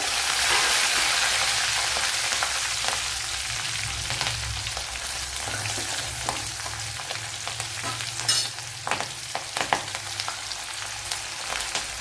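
Garlic cloves, ginger and green chillies frying in hot oil with mustard seeds for a Kerala gooseberry pickle, a loud, dense close sizzle that eases slightly over time, with occasional stirring scrapes and crackles.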